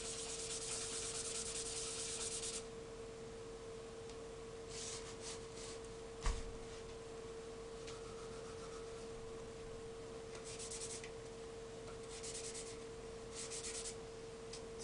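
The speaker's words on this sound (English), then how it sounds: "so only do a light sanding." Soft, steady light sanding strokes on an FDM 3D-printed part come in bursts of rubbing with pauses, over a constant faint tone and one brief knock near the middle.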